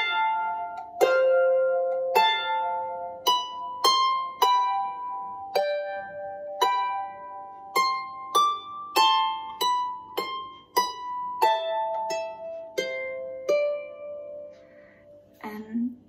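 Manx harp playing the triad section of 100 Hours: a slow, steady series of plucked notes, each ringing out and decaying, clear and alone, with a faint noise at the very end.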